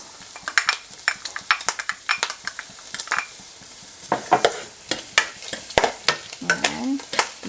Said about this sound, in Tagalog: And then, we'll put in our onions.